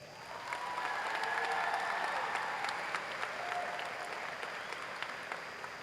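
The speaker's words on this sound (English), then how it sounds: "How about a round of applause for the Harlem High School Band?" A crowd at a Harlem high school graduation ceremony gives the Harlem High School Band a sustained, steady round of applause, with a dense wash of clapping and no break.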